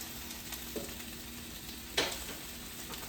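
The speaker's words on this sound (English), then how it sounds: "And that sizzling." A steady, quiet sizzle of portobello mushrooms frying in a pan, with a couple of faint clicks and a brief scrape, no voices.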